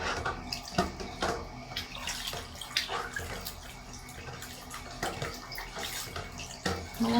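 A homemade DIY fabric conditioner is stirred in a container, giving soft, irregular sloshing and swishing of liquid at close range.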